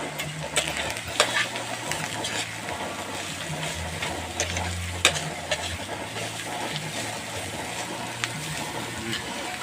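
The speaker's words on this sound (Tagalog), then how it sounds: "nagluluto po tayo ng ampalaya. Yan o, niluluto natin. Lagyan natin ng itlog" Bitter gourd (ampalaya) with egg fries in a pan with a soft, continuous sizzle and occasional clinks and scrapes, while a person talks over it.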